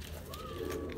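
A baby bird hand-fed with a homemade pump gives a faint, thin rising peep over low background rumble, lasting about a second.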